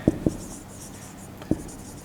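Someone writing on a board during a class, three sharp close taps, two in quick succession and a third a moment later, over a faint background hum.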